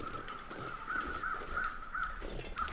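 Crows caw in a snowy wilderness in The Long Dark survival game, a run of five or six evenly spaced harsh calls over a steady windy background, fairly close and clear with no voices.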